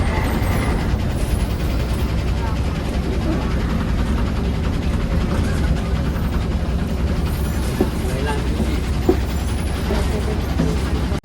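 An ST bus engine rumbles loudly and close as it arrives at a bus stand, a steady low drone that continues without letting up.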